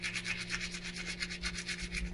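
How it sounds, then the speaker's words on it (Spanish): A brush scrubs a small vintage Micro Machines toy spaceship with quick, rhythmic back-and-forth strokes, the bristles rasping softly and close up with no talking. "Y luego le van a tallar con su con su cepillo"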